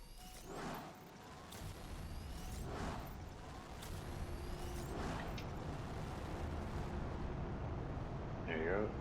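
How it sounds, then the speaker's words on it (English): Rockets launch in the survival game The Planet Crafter. Three or four faint, rumbling whooshes are spaced a couple of seconds apart over a low, constant background drone. "Let's fire off some rockets."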